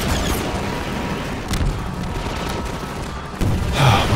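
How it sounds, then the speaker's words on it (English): Rocket launcher shots against a gunship in Half-Life 2, a run of booming blasts and sharp gunfire bursts with a loud explosion near the end, all close and heavy. "One of the better weapons of the game, the rocket launcher."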